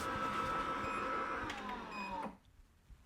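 An HTVRont LOKLik auto heat press lowers its heated plate with a steady mechanical whir and hum that runs for about two seconds, then cuts off abruptly into near quiet.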